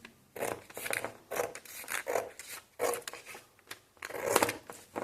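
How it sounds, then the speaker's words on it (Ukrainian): Scissors snip and rasp through a plastic LEGO set bag, a series of close, crisp cutting and crinkling bursts in an irregular rhythm with short pauses between them. "Обрізаємо частинку і відкладаємо ножиці."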